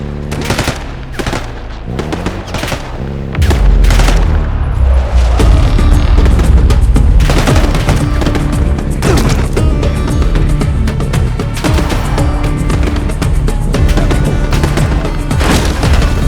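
Loud, dense gunfire and explosions from Call of Duty Black Ops 6 played on PS5: bursts of rapid automatic fire and heavy booms roll on almost without pause, with a sharp jump in intensity after a quieter opening.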